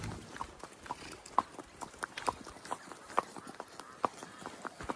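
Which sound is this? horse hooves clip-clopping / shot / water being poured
horse hooves clip-clopping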